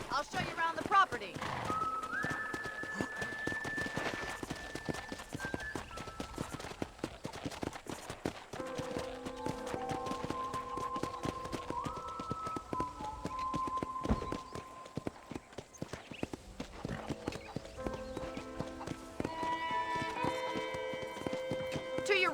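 Horse hooves trot with a steady clip-clop rhythm in the Western video game Red Dead Redemption, close and continuous beneath sustained musical tones and occasional voices.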